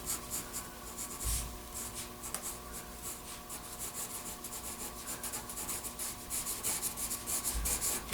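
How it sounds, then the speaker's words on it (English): Pencil marks being erased from drawing paper while sketching a portrait, heard as close, continuous rubbing and scratching strokes in quick back-and-forth bursts, fairly quiet, with no speech. "Just erasing out my marks that I made on this paper so I don't confuse myself."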